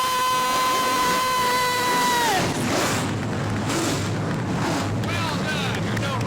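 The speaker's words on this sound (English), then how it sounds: "Drivers, start your engines!" Several race car engines firing up at a New Smyrna Governor's Cup event, a loud rumbling roar rising and swelling after a sustained tone, with crowd and announcer noise mixed underneath.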